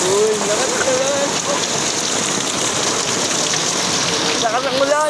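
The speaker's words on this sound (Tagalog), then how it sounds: "Uy, lakas ang ulan." Heavy rain pours in Manila, Philippines, a loud, dense hiss of drops hitting surfaces that fills the whole stretch, with some faint tonal sounds over it.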